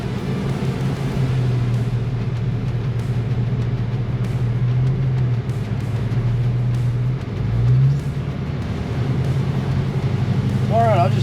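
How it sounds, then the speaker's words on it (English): A Jaguar car drives after a transmission service, its engine humming steadily at a moderate level with a brief rise in revs partway through, under occasional faint background noise. "Now, the car's sitting here warming up, and we're going to take it for a drive and see what happens."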